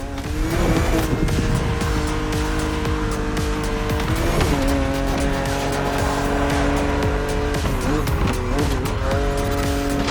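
A BMW Z roadster races in The Crew Motorfest against an aggressive opponent, with a loud, steady engine drone and tire squeals and skids throughout, and no talk.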